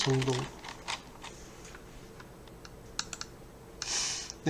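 Computer keyboard keys being tapped in short scattered clicks, fairly close, with a brief voice at the start and a soft hiss of noise near the end.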